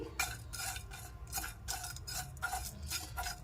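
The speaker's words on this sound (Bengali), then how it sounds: "এবার শুকনো কড়াইয়ের মধ্যে মশলাটাকে ভেজে নিচ্ছি" Rezala spices for a cauliflower rezala dry-roasting in a dry wok, with a spatula stirring and scraping in a steady rhythm of short, close scratchy strokes about every half second over a low background hum; no talking.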